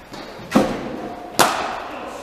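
Cricket bat striking the ball during indoor winter net practice, two distinct hollow thuds about a second apart, each with a short ringing tail in a reverberant hall.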